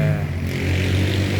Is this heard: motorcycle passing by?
yes